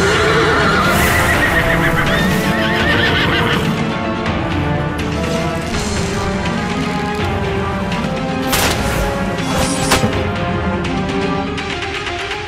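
A horse neighs loudly and repeatedly, its whinnies rising over a dense, busy background with occasional crashing impacts; no one speaks.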